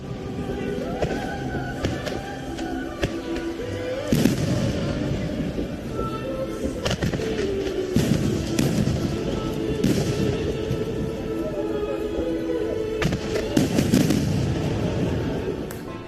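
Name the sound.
fireworks exploding in the sky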